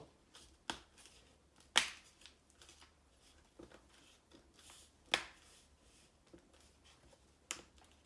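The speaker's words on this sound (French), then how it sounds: "on appuie délicatement jusqu'à ce qu'on entende les petits clics" A replacement screen on an Asus Vivobook S712FA laptop is pressed gently into its frame, giving a few sharp, faint plastic clicks spaced seconds apart among quiet handling noise, with no talk.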